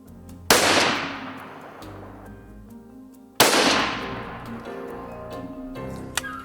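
A rifle, just shipped to Africa for a safari hunt, fires two sharp, loud test shots about three seconds apart outdoors, each with a long fading echo.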